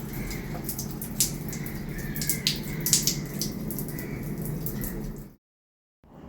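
Water dripping and trickling from a freshly washed doormat hung up in a bathroom, with steady soft splashing and a few sharper drops, continuous for about five seconds before stopping.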